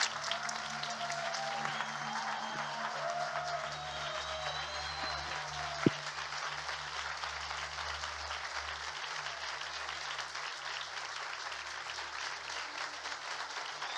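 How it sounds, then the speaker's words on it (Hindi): A congregation at a church service claps for Jesus. The clapping is steady and fairly faint, heard beneath a low hum and sustained music tones, with a single sharp knock partway through. "आइए यीशु के लिए एक जोरदार ताली बजाएं।"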